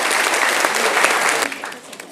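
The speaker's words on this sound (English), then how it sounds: "So let's give them a big round of applause" Loud, dense applause and cheering from a crowd honouring the senior students at a school formal, steady for about a second and a half before tapering off.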